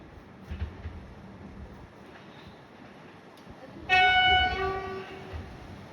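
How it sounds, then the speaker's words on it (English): A not-in-service train passes Essendon station before dawn. A low rumble of wheels on rail builds, then a loud horn blast cuts in near the end and holds for a couple of seconds before fading. "here's a not in service train."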